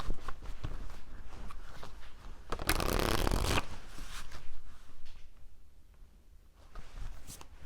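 A deck of oracle cards is shuffled by hand in soft, rustling bursts, with a louder riffle in the middle and quieter handling after, close and alone without talk.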